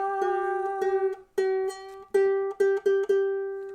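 Plucked ukulele string tuned against a piano G, ringing out as a series of repeated single notes with clear decays and short gaps, close and fairly loud, no talking.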